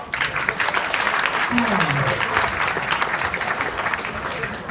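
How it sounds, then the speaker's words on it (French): A large crowd at an evening election event applauds together in steady, dense clapping that holds throughout, with faint voices mixed in underneath. "On peut les applaudir tous ensemble?"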